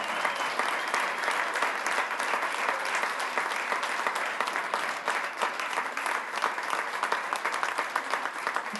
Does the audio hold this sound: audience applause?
yes